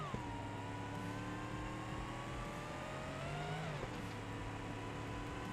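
Supercharged Moonhawk drag car in BeamNG Drive holding a steady engine drone with rising whine, then a gear shift drop near the end, close and constant, with no voices.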